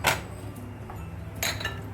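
Sugar spooned onto cut mangoes in a bowl for mango mastani: two bright metallic clinks of the spoon against the dish, one at the start and one near the end, with a quiet pause between.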